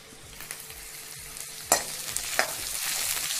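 Chopped onions and curry leaves fry in ginger oil in a kadai, making a soft, steady sizzle with a few sharp spatula knocks and stirring scrapes up close.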